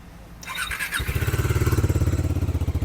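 A Bajaj Dominar motorcycle engine cranks with a whine, fires up, and settles into a deep, bassy, rhythmically thumping idle close by.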